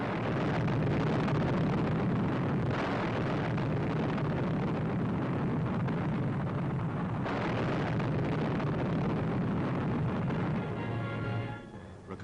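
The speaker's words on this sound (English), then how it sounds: "the new 10-ton Mammoth ripped the bridge in one tremendous explosion" A massive explosion from a 10-ton bomb destroying a bridge roars as one long, dense rumble that fills the air, then fades away near the end.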